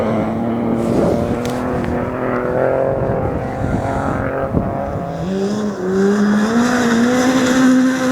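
A Ford Fiesta rally car on a forest rally stage at Gale Rigg roars past, its engine note rising and falling through gear changes, loud and fairly close with a broad rushing tone.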